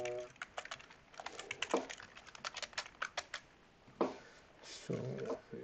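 Fingers type on a new computer keyboard, quick bursts of close, clicky keystrokes with short pauses and a few louder taps near the end.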